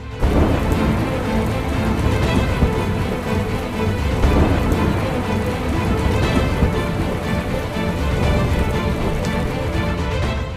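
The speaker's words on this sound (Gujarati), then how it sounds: "રાતથી જ વરસાદ શરૂ થયો હતો. ધોધમાર વરસાદ હતો." Heavy monsoon rain in Mumbai pours down steadily, a dense, loud roar of drops on surfaces with no voices.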